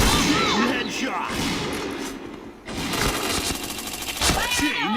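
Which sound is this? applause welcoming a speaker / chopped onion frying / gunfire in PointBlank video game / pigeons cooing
gunfire in PointBlank video game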